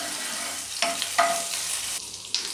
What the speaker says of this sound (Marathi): अद्रक लसूण पेस्ट फ्राय करून घ्यायचं आहे.